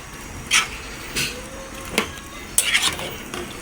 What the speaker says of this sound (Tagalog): Haluin na natin to ng maigi.